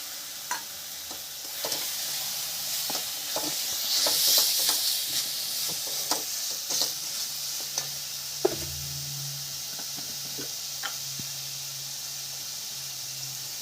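Onions and spices frying in a pan for a Bengali-style chicken curry, a steady close sizzle and hiss with scattered stirring scrapes and clinks throughout, one louder spatter burst near the middle.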